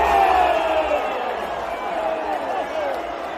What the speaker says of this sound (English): Do you hear the crowd?